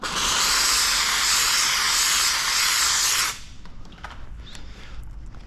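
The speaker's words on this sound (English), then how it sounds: "the steam kind of seems to help eliminate or it gets rid of some of like the tackiness of the material" A steamer sprays onto paint protection film on a Harley-Davidson side panel cowling, making a loud, steady hiss that runs for about three seconds and then cuts off. Faint handling noises follow.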